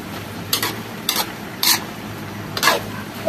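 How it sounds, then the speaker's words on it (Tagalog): Chicken intestines (isaw) being stirred for adobo make four or five bright scraping strokes against a sizzling pan, spaced about half a second apart over a constant low fry. "Saka po natin haluin ang ating isaw"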